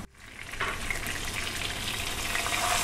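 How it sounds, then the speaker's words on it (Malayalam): A whole chicken fries in a pan with oil for murgh musallam, giving a steady loud sizzle that swells after a brief quiet start and holds evenly throughout. "ഫ്രൈ ചെയ്തെടുക്കാം."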